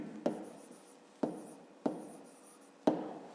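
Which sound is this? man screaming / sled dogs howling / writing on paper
writing on paper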